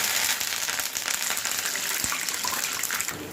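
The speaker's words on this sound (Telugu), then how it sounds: "తాలింపు ఎర్రగా ఏగేదాకా ఉంచుకొని స్టవ్ ఆఫ్ చేసేసేసుకోవాలి" Curry leaves and tempering spices sizzle in hot peanut oil, giving a dense, continuous hiss and crackle with small spitting pops, steady and close with no talking.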